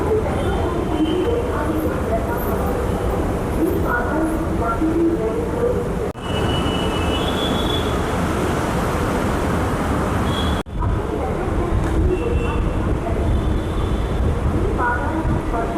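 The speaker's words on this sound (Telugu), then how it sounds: "అండ్ మొత్తం మన ట్రైన్ వచ్చేసింది." A Hyderabad metro train runs past a station with a loud, continuous rumble and rail rush, and a few sharp clicks split the sound. People talk over it.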